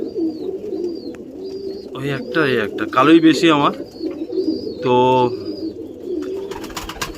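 Young pigeons, mostly black, give low, throaty coos near the start and end, while someone talks loudly over the middle stretch.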